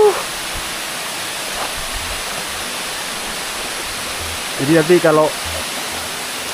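Small river flowing toward a waterfall in a tropical forest, a steady broad rush of water filling the whole stretch, with someone briefly talking near the end.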